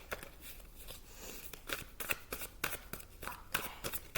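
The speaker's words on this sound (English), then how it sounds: "even though I've shuffled them already, I feel like I need to shuffle them again." Large tarot cards shuffled by hand, a run of crisp papery riffles and slaps coming in irregular bursts, close and fairly quiet, with no talking.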